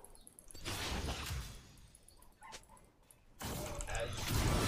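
A dog barks and yips several times in loud bursts close by, with gaps of quieter room noise between them.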